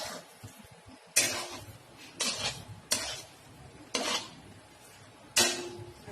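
Potatoes fry in a pan for a paneer and carrot dish, with a spatula stirring in several distinct scraping bursts over a low sizzle, close and fairly clear.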